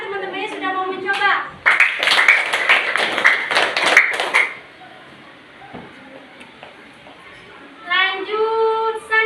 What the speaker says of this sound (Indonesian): tepuk tangan dulu karena teman-temannya sudah mau mencoba